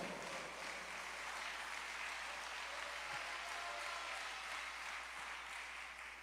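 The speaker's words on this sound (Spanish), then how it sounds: "¿Puede darle palmas al Señor?" A church congregation claps for the Lord during a sermon, a faint, even and continuous patter of many hands heard from a distance, with no voices over it.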